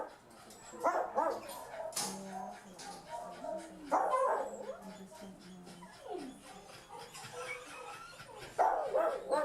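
A small dog in a shelter kennel, giving several short barks and yips at intervals amid whimpering and background commotion, moderately close, with a voice talking over it.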